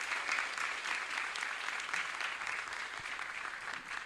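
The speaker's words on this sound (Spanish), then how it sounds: "Fuertes los aplausos." Congregation at a Catholic Mass in a chapel in Areguá applauding after a hymn, steady, sustained clapping from many hands, moderately faint with a roomy, reverberant feel.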